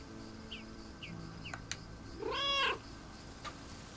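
A cat being petted in the video game Lake gives a few short soft chirps, then one louder, longer meow close up over a quiet ambient bed.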